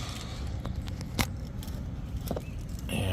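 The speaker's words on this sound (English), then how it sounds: "kind of stick it in to the key cylinder like so, all the way in" A key slides into the ignition key cylinder of a Chevy Suburban, with close metallic jangles and clicks over a steady low background hum; no one talks.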